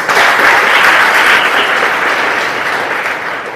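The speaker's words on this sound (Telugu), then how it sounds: "క్లాప్స్ కొడదాం" Loud, dense applause from a large crowd at a college certificate ceremony, steady clapping that tapers slightly toward the end.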